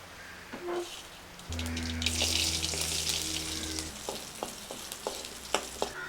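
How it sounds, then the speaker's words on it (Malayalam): Mustard seeds splutter in hot oil: a steady sizzle while small sharp pops and crackles burst out at irregular intervals, with a low hum underneath and no talking. "കടുക് പൊട്ടിക്കണേ."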